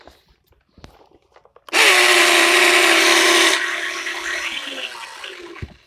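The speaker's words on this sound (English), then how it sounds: "I think I burned out the gear" An electric motor with a burned-out gear starts after a few faint clicks and runs with a loud, harsh whine and grinding rattle for about two seconds, then continues slightly quieter until it stops.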